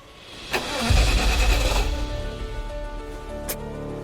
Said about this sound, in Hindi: एक बार जरा इंजन तो स्टार्ट कर जरा।